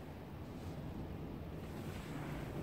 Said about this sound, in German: es ist sehr windig.